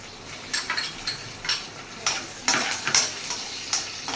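Peanuts sizzle in hot ghee with mustard seeds while a spoon stirs and scrapes the pan in irregular clinks and scratches, close by and with no talking.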